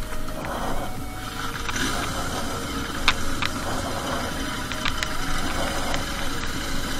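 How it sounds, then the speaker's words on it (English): A large motorcycle engine, roughly 200 plus kilograms, idles steadily after a jumpstart with a continuous low rumble and a faint knocking rattle. Occasional sharp clicks sit over the moderately quiet running. "Jumpstarting my motorcycle."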